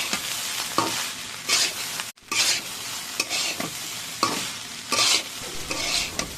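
Rice sizzles in a hot pan while a utensil scrapes and stirs it in repeated strokes, close and fairly loud.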